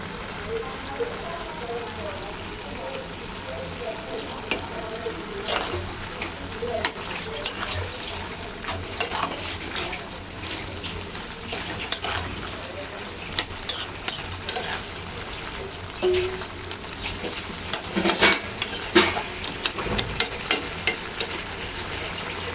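Malabar spinach and shrimp curry simmering uncovered in a pan, with a steady close sizzle and bubbling, plus scraping stirs and clinks scattered through, heavier around the middle and near the end.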